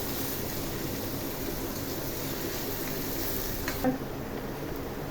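Four finely chopped medium onions frying in oil over a high flame, a steady broadband sizzle throughout with a brief clink near the end, no talking.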